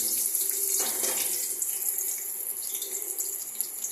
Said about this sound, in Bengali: আমি এর মধ্যে এই সর্ষে, গোটা সর্ষে, শুকনো লঙ্কা, এই লঙ্কাটা দিয়ে দিচ্ছি